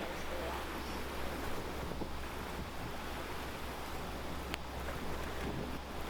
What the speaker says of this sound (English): I just hear the waves wishing against the rocks.